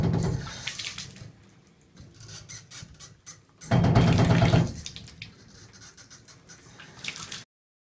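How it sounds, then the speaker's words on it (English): Water hammer in a pipe: rushing water noise with a sharp, loud surge midway as the water slams back against a shut valve, then a lower churning wash that cuts off abruptly; no talking. "The water that was rushing through it is now collapsing back against the valve"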